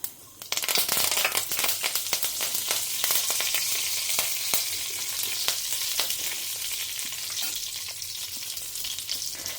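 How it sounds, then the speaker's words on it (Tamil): Mustard and fenugreek seeds splutter and pop in hot oil, a loud continuous sizzle with sharp crackling bursts that starts abruptly and carries on steadily to the end, with no talk over it. "இப்போ நம்ம கடுகு வெந்தயம் போட்டுக்கலாம் பொரியட்டும்"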